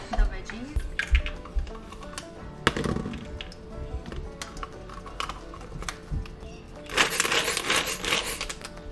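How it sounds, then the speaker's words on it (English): Paneer and garlic being chopped on a board for Delhi-style momo filling, a run of quick, close knife taps with louder clustered strikes near the end. "Now I'll chop some paneer and garlic"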